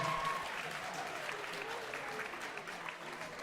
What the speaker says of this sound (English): Round of applause for all of our beginner couples performing today